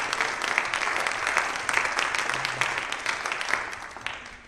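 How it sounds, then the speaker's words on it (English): Steady, fairly loud applause from a squash event audience at a stadium, a dense wash of clapping that holds throughout before easing off at the end. "So big round of applause to Martijn and the family."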